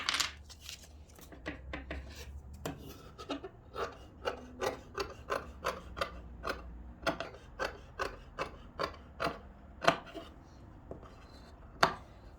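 Scissors snip through blouse fabric in a steady series of crisp, close cuts, roughly two per second, with no talking.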